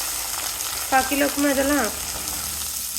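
Onions and chopped vegetables frying in oil make a steady, even sizzle with soft stirring, and a person speaks briefly in the middle.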